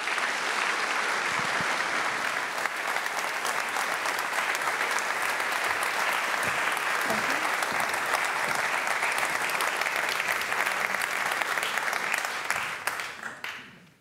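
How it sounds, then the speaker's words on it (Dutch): Sustained audience applause in a lecture hall for Justice Minister Dilan Yeşilgöz before her HJ Schoo lecture, a loud, even roar of clapping that runs for about thirteen seconds and then quickly dies away. "En graag uw aandacht en applaus voor minister Dilan Yücelgöz Segeris."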